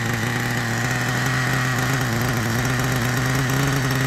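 A 1997 Kyosho nitro RC car with a GS11X engine runs close by, a steady buzzing idle with a constant droning tone and slight rough vibration, unbroken throughout.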